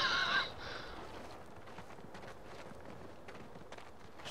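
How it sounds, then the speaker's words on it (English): Footsteps in the stealth video game Splinter Cell Blacklist, co-op mode in a smugglers compound: a run of soft, evenly spaced steps heard quietly over low ambient game noise after a brief brighter sound at the start. "I'm hearing footsteps"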